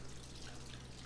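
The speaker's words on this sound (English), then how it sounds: "I got some cool water sounds around my house," Household water dripping and trickling, used as a wet, gross effect, heard as a short, faint, close splashy patter with no voices.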